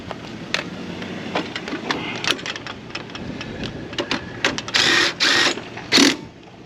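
A 19mm socket winds down a stabiliser leg on a Stoney Creek Scout 15 camper trailer, giving close mechanical clicks and ratcheting with scraping taps, then several louder grinding bursts near the end. No one talks.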